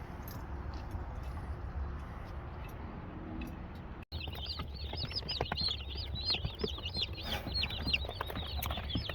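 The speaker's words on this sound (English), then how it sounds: "These are our baby chicks." Meat King broiler chicks, a commercial meat breed, peep in a dense, continuous chorus of high chirps over a low background hum, close and fairly busy.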